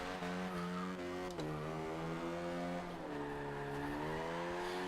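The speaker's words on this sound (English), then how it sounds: "See, I've spun it again." A Mini in Forza Horizon 2 drifts and spins out in a warehouse area, its engine holding a steady revving whine with pitch dips as it slides, loud and continuous.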